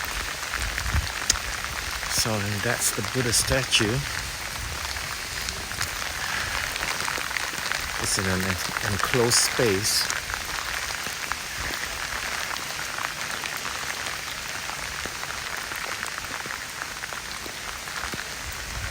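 Steady rain patters on surfaces all around in Sukhothai, Thailand, while a person talks now and then over the constant hiss.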